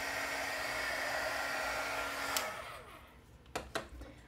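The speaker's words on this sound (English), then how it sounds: "You want to keep your heat gun moving." A heat gun blows a steady whooshing roar while melting embossing powder on a card, close and loud, then cuts off abruptly partway through, followed by a few light clicks and taps.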